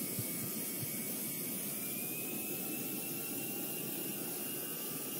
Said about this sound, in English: Spoilers, brakes, put the throttle all the way back for full reverse thrust.